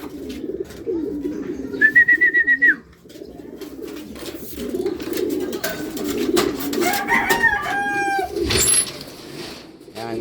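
A racing pigeon arriving home in General Luna during a training flight, with soft cooing and rustling near the loft, brief whistles and chirps from other birds, and people talking quietly in between.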